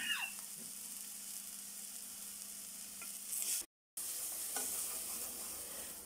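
Spice masala with curry leaves fries in oil for South Indian rasam, a steady close sizzle with occasional stirring scrapes, briefly cut to silence near the middle before the sizzling resumes.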